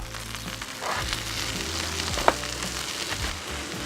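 Vegetables sizzle steadily in olive oil on a Blackstone griddle, a continuous close frying hiss with a sharp click or scrape partway through.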